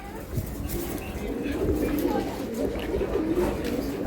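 Giribaz pigeons, including round-headed 'laddu' types, coo softly in a cage at a pigeon sale, giving low, murmuring calls that repeat steadily over constant background noise.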